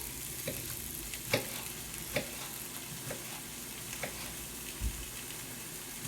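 Chopped pepper for borscht frying in a pan, with a quiet steady sizzle broken by several sharp taps and scrapes of a utensil at irregular intervals.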